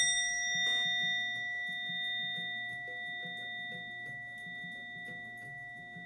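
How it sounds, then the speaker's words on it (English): A single bell struck once near the start of a live moon-reading session, its clear ringing tones sustaining steadily and slowly fading over several seconds while soft tapping and background sounds continue beneath. "With the sound of the bell, call you into presence in this time"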